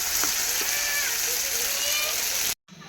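Small fish frying with spices in a pan: a loud, steady sizzle and hiss runs without letup, then cuts off abruptly just before the end.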